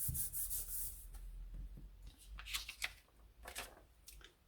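Paper is rubbed down by hand onto a dendritic printing plate, a quiet series of dry, scratchy strokes in an uneven rhythm, close by, with no talking.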